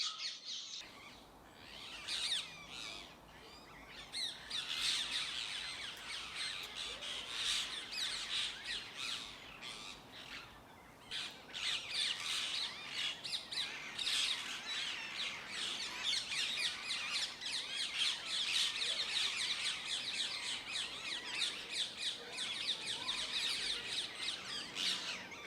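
Feral parakeets in a London park squawk loudly and almost without pause, a dense, shrill flock chorus that swamps any other birdsong nearby.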